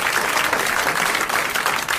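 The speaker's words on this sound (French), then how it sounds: "Dans ces applaudissements qui vous accueillent en fête" Television studio audience applauding to welcome a guest on a 1981 French talk show, dense continuous clapping filling the whole stretch, loud and close with no voices over it.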